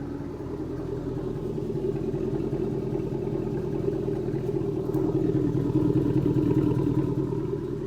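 A Hummer engine idles through its exhaust, a steady, low, rumbling drone that stays close and even throughout and grows slightly louder toward the end.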